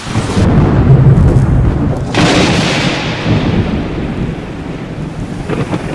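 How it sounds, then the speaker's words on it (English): Broadband roaring wash of heavy rain turning to sleet, with a rumbling surge like distant thunder, loud and continuous with no voices. "Right now it's rain"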